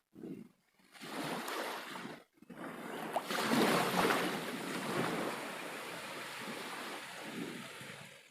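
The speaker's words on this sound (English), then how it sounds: "Even the waves are whispering." Ocean surf rolling onto a coast, heard as a broad, steady wash of noise that swells loud and stays close, with two brief breaks near the start.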